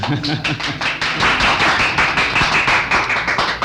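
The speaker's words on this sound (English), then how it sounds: "oh, you applaud now" An audience at a private 1948 a cappella performance for corporate executives claps in a quick rhythmic burst, distinct individual hand claps close and loud throughout.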